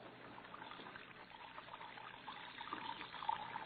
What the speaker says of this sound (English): watching water pouring from his wash basin to the cell floor